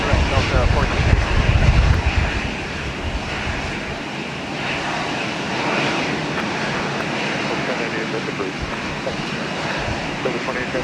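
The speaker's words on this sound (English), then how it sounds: "that aircraft is now taking off" An aircraft takes off from a runway at Minneapolis–St. Paul Airport, its engine a steady broad roar with a louder low rumble early on, while radio chatter runs over it.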